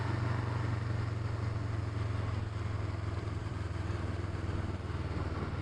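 A motorbike on a ride to the shops, its engine giving a steady low drone with constant road rumble throughout, even and continuous with no talking.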